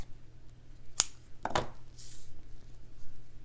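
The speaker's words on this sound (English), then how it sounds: "and then with a pair of scissors" A couple of crisp scissor snips close by as thread is trimmed, then a soft rustle in an otherwise quiet room.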